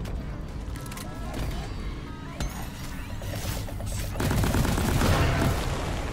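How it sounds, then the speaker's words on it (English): A grenade blast in Deep Rock Galactic, heard amid ongoing gunfire and game noise. Near the end a heavier, louder burst rises as someone talks over the action. "How about we just get a grenade in?"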